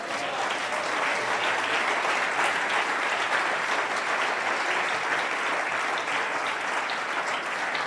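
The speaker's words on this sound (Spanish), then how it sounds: "Dale un aplauso a él." Church congregation applauding a preacher, a dense, steady wash of many hands clapping at even loudness throughout, with no voices rising above it.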